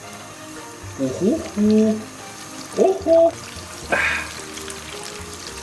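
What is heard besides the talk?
chicken drumsticks frying in hot oil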